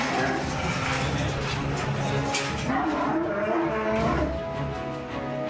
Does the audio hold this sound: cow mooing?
yes